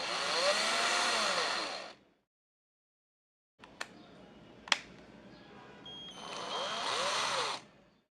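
A homemade cordless drill runs anticlockwise with a loud whirring whine in two bursts. A pause and a couple of sharp clicks separate the bursts.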